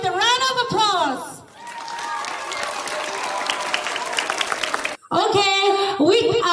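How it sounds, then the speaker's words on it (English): A school audience at a nursery class event in Lunglei applauds a performer. Loud crowd clapping and cheering fills the middle of the clip, bracketed by a voice over a loudspeaker talking before and after it. "let us welcome Sweetheart of the School with a round of applause"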